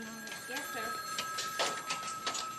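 A telephone rings with a bright, steady electronic tone running throughout, moderately loud, while a person talks over it.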